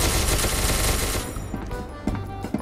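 Rapid automatic gunfire in the video game SCP Secret Laboratory, a loud dense burst that stops abruptly, followed by a few scattered single shots.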